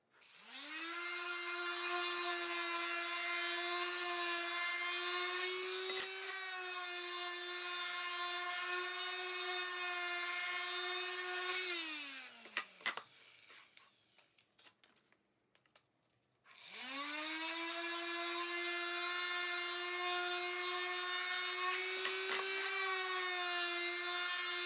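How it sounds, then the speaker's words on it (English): A rotary sander works the top piece of a wooden box, a steady high whine that runs for about twelve seconds, spins down and goes quiet with a few knocks, then starts up again, loud and close. "I'm just going to use the rotary sander to finish the sanding on the top piece."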